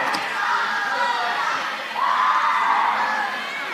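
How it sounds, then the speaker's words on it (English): Crowd cheering and whooping with some clapping at the close of a disc game at the 2019 Dust Devil tournament, a steady broad roar of voices including children's shouts that swells again partway through. "A little clapping, a little high five."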